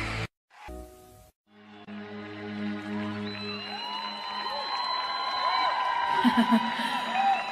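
Concert crowd cheering and applauding, swelling gradually from quiet into a broad, building roar with whoops and shouts, following a few sung or musical tones at the start.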